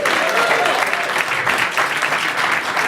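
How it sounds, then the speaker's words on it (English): An audience at a startup weekend pitch event claps and cheers for one team, a dense, loud, steady wash of applause with scattered voices. "Give me the cheer for Connect Forward."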